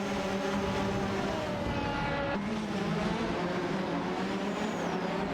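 McLaren MP4/4 and similar race cars in an AI racing video game roar past with high, tonal engine whines that rise and shift as several cars pass, overlapping continuously at steady loudness.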